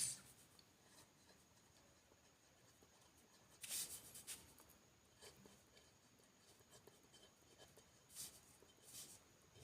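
Pen or pencil writing out a maths exercise by hand, a faint, steady scratching across the page with a few slightly louder strokes. No one speaks over it.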